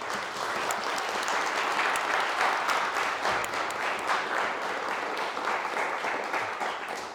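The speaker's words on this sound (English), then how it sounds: "maybe we should give a round of applause to the organizers" Conference attendees at a mathematics talk on Ricci flow applaud the organizers, a steady, fairly dense round of clapping sustained for about seven seconds in a hall.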